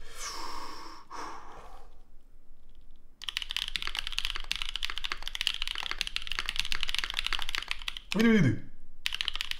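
Typing on a NEO Element Ultimate G67 prototype mechanical keyboard makes a dense, continuous patter of close keystrokes, preceded by breathy sounds and briefly interrupted by a spoken voice.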